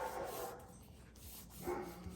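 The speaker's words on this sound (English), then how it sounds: "If you're hearing the dog barking, that is Max." A dog barks a few times in the background, mid-distance and moderately loud, with no talking over it.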